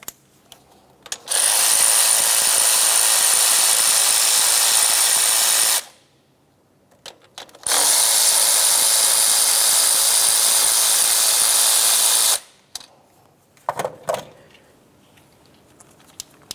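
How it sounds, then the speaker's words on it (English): A power tool drives out the 12mm fuel rail mounting studs on a 2009-2010 Pontiac Vibe engine, in two loud, sustained buzzing runs of about five seconds each separated by a short pause, followed by faint clicks. "you have two 12mm mounting studs that hold the fuel rail in place. Remove the pair."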